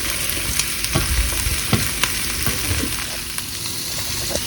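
Oil sizzles steadily in a pan while dried red chillies fry, with scattered utensil clinks and stirring scrapes at irregular intervals over a continuous hiss.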